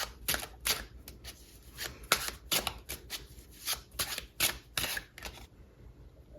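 Tarot cards are shuffled by hand in a quiet room, a rapid irregular series of soft riffling slaps and flicks close by, with no talk over them.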